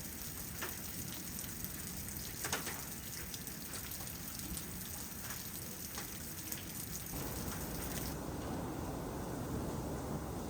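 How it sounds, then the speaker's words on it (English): Hail pours down in a dense, steady clatter, loud and close, with occasional sharper impacts standing out from the constant drumming, amid a storm with 50-mile-an-hour wind gusts. "getting some hail"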